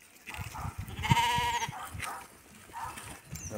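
A sheep bleats once, wavering and nasal, amid faint outdoor rustling in a dried-up maize field where sheep graze, with softer bleats following.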